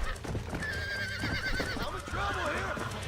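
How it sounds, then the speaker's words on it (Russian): A horse in the video game Red Dead Redemption whinnies loudly with a wavering, rising and falling neigh over clopping hooves, while someone speaks over it. "Точнее лошадь, а не собака."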